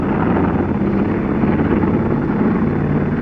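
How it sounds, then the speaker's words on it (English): A simulated sound of tanks driving up a hill, projected as a deception effect, gives a loud, continuous mechanical rumble with a steady low roar and no pauses. "At the little hill, this one projected the sound of tanks going up."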